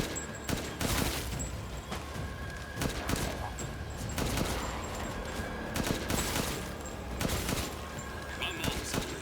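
Shots ring out in a shooting gallery in the horror game Resident Evil Village, a series of separate sharp bangs spaced irregularly over several seconds, loud against a constant background, with occasional talking.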